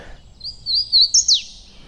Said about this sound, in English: I hear hooded warbler,